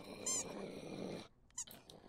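A dog growls low and steady at a cat eating its food, a rumbling snarl with a couple of short squeaky yelps, then a pause and another brief whimper close by.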